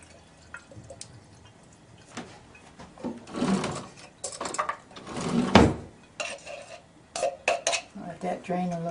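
Cheese being mixed together for cheese rolls, with a run of clattering, scraping and knocking from utensils and bowls, close and irregular, building into busier bursts of kitchen handling.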